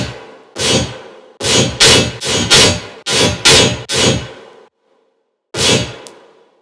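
Heavy dubstep synth hits drenched in reverb and shaped by an EQ boost, played as a loud rhythmic run of stabs with tails, a gap of silence, then one more burst.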